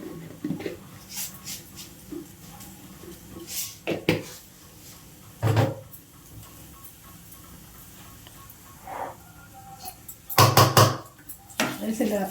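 Urad dal, fenugreek and mustard seeds being stirred in a pan with a spoon: scattered clinks, taps and scrapes against the metal, a few louder knocks, all fairly quiet with soft talking between them.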